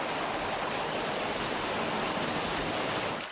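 Water runs through channeled streams in the Alhambra gardens of Granada, a steady and fairly loud broadband rush that continues without a break and tails off slightly at the very end. No one speaks.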